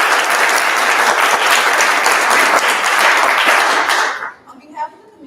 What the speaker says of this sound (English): Let's give our candidates a round of applause.